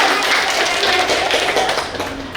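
Applause for children who took part in a tongue twister game at a kids' talent event, a steady wash of many hands clapping that holds for a couple of seconds and then slowly fades.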